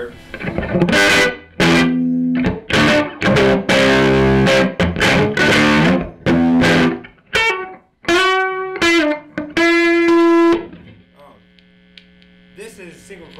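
Electric guitar through an amp set to a '55 Champ' voicing with no reverb, loud and slightly distorted: strummed chords and single notes cut off dry, ending in a sustained note over a steady mains hum.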